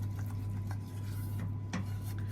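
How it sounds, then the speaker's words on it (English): A wooden spoon stirring a melted mixture in a pan with the gas off, giving soft scraping and a few light taps against the sides over a steady low background hum. "wooden spoon, I'm just going to mix that together"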